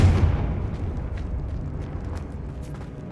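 A Confringo spell explosion in the video game Hogwarts Legacy hits with a loud, deep boom at the start, then fades into a long rumbling decay with scattered small crackles.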